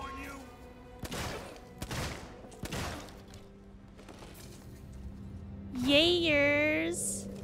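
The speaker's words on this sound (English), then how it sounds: "I'm so glad his shotgun bullets actually don't do that much to me." Shotgun blasts in the video game Alien Isolation, three sharp booming shots spaced about a second apart under a speaking voice, followed by a rising electronic tone.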